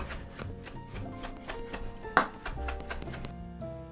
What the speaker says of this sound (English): So we're gonna chop the parsley